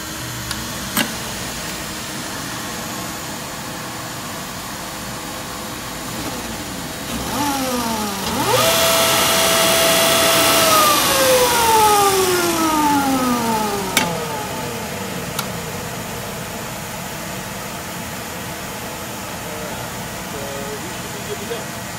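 An American Sanders FloorCrafter floor sander cuts raw hardwood, its steady motor hum swelling into a loud, broad grinding roar for several seconds and then winding back down to a lower drone.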